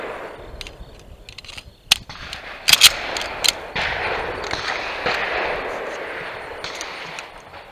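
Gunfire on a steel-target falling steel shooting stage at an outdoor range: a handful of sharp, loud reports, several close together, with faint metallic target hits over a steady wind-like background hiss.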